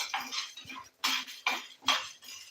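Dry chana dal roasting in a pan for homemade curry leaf powder, with a few distinct scraping, rattling bursts as the lentils are stirred against the metal, separated by short quiet gaps.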